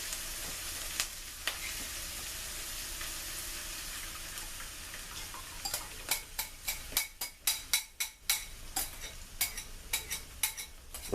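Eggs cook in a pan with onions, peppers and tomatoes, a quiet steady sizzle that gives way to a rapid series of sharp utensil scrapes and taps against the pan.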